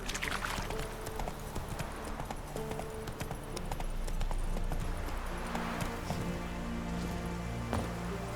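Geralt's horse Roach trotting in The Witcher 3: Wild Hunt, hooves clip-clopping in a steady, close rhythm alongside a patter of rain, with a faint whinny and low background music throughout.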